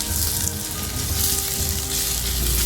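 Onions sizzling and frying in a pan for a North Indian malai kofta gravy, a steady close crackle and hiss that holds even throughout without any talk.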